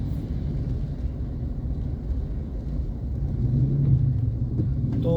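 Steady road and engine rumble heard from inside a car driving through traffic toward a housing development in Imus, Cavite, a continuous low drone that swells slightly toward the end, with no talking.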